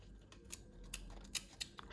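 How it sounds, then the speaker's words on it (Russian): Small scissors snipping fabric while making handmade Christmas tree ornaments, a series of crisp close snips spaced irregularly, quiet over faint background hum. "Вот здесь серединку я убираю ткань маленькими ножницами"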